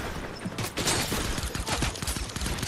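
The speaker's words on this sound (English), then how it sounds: "He's trying to shoot me." Gunfire in the video game Fortnite rattles off in fast, loud bursts with a busy mechanical clatter, close and continuous for a few seconds, with no talking.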